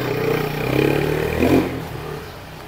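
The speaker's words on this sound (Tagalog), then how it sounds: "May motor na dumadaan." A motorcycle goes by on a street in Vigan, its engine swelling to a loud peak mid-clip and then fading as it moves off, with steady traffic noise behind it.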